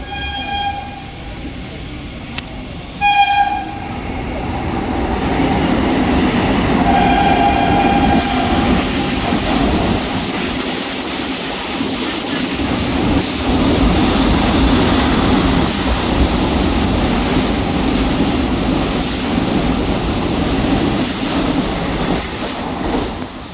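A Mumbai local train rumbles and clatters steadily close by at a station platform, its noise building and holding, after a few high electronic tones at the start.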